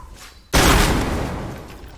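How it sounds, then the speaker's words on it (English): A single loud gunshot in a video game: a sharp, sudden blast after a quiet moment, followed by a long, rumbling tail that slowly fades. "All right, so let's shoot that thing."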